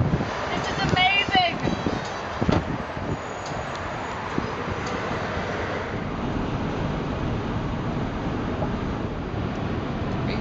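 Steady broadband wind rumble blowing across the microphone at a gas pump for the whole stretch, with a brief voice and a few clanks early on.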